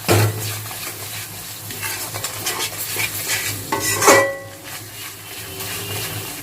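Spice masala for chicken korma being stirred in a pan over medium heat, with steady scraping and clinking of a spoon against metal and a soft sizzle underneath, close and moderately loud.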